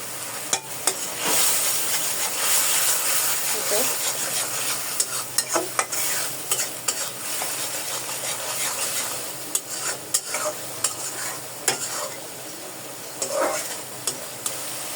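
Spice masala with cumin paste and salt frying in a pan as it is stirred, a low steady sizzle broken by repeated sharp clinks and scrapes of a spoon against the pan, close, with no talking.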